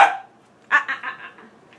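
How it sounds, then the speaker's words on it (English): A dog gives a few quick barks at close range, a short burst of three or four yaps fading out, after a brief opening sound. "They're barking at me because I'm talking to you."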